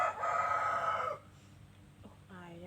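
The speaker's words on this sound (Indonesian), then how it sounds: "Ayam" Rooster crowing once nearby, a loud drawn-out call that breaks off, followed by quieter background and a faint voice near the end.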